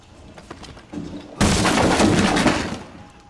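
A sledgehammer breaches a wall on the Consulate map in Rainbow Six Siege: a few lighter knocks, then one loud, close crash of splintering debris that rings on for about a second before fading.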